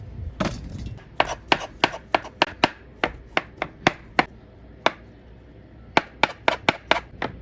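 A knife coarsely chops firm boiled potatoes in a large bowl, giving sharp, close, irregular knocks in quick bursts with short pauses between, alone and without talk.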